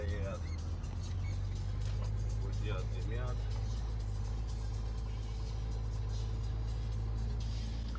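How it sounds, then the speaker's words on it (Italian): Several cars sit idling with their engines running outside a roadside café in minus-40-degree cold, a steady low rumble close by with voices talking over it. "Le macchine sono tutte qui con i motori accesi"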